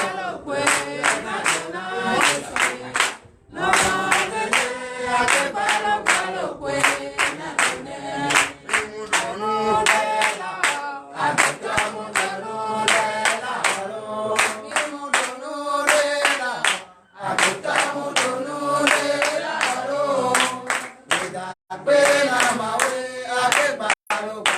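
A church congregation at a testimony service in Comè, Benin claps steadily in acclamation, the rhythmic hand claps blended with loud singing and music that run almost continuously, with a few brief pauses.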